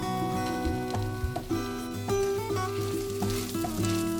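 Ground cumin, coriander and other spices fry with grated boiled potato in a pan for palak paratha filling, a loud, close, crackling sizzle broken by repeated scraping stirs of a spatula, with no voices.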